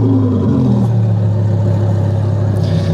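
An Audi R8 engine runs at a steady, loud low rumble with its exhaust droning close by, with no clear separate revs standing out over about three seconds.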